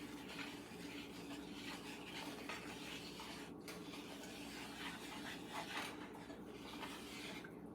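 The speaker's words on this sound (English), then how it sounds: "And then I'm stirring it." A spoon scrapes and stirs sausage gravy in a pan with a steady, continuous rasping and rubbing, faint and close, with occasional light clinks against the pot and no voices.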